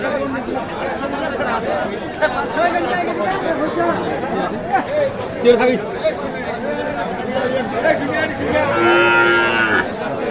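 Cattle moo loudly at a livestock market amid the busy chatter of many people, with a long drawn-out low near the end.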